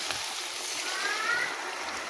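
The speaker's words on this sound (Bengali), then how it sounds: "এবার আমি পরিমাণ মতো জল দিয়ে দিই।" Water poured into a pan of fried taro stolons cooked without onion or garlic, a continuous hissing, splashing rush that stays steady and moderately loud throughout.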